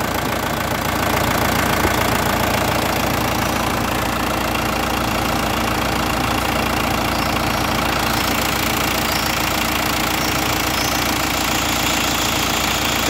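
An Iseki TA 357 DT tractor engine idles smoothly and steadily at close range, a continuous even rumble with a light rattling texture and no break across the whole stretch.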